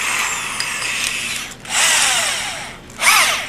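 A power drill fitted with a larger bit cuts into a plastic solar combiner box in short bursts, two loud whirring runs separated by a brief pause, close up.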